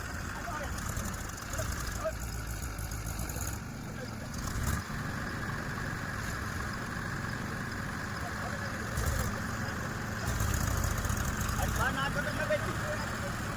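A tractor engine idles and runs steadily in a farm field, a continuous mid-pitched rumble close to the microphone that swells slightly toward the end, with people talking over it.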